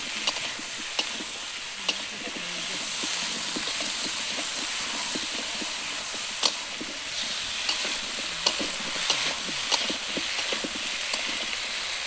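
A spoon stirs a Bengali fish curry base of salt, turmeric and ginger paste in a pan, with a continuous sizzling hiss and scattered, irregular scraping clicks throughout.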